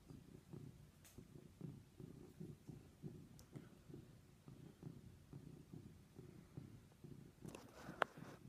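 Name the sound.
cat purring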